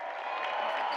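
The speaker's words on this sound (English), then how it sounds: "big round of applause for Team Brazil" Dense crowd applause and cheering for Team Brazil at the world surfing games, a steady wash of sound heard from some distance, with faint voices mixed in.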